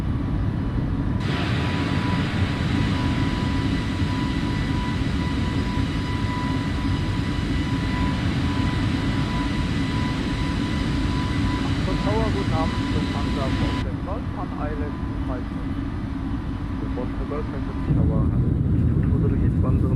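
An Airbus A320neo rolling down the runway and climbing out in Microsoft Flight Simulator, a steady loud engine roar with a constant whine, the tone shifting after rotation, with radio voices faintly underneath.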